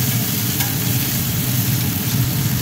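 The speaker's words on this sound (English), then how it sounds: "About time to get this bacon turned." Bacon strips sizzle steadily on a hot flat-top griddle with a faint stirring scrape and no voices, a dense continuous crackle held at even loudness throughout.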